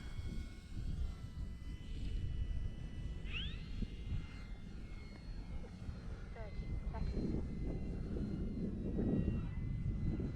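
An E-flite Draco RC airplane flies touch-and-go passes, its electric motor a faint, steady drone at a distance beneath low wind rumble, with a brief rising whine partway through.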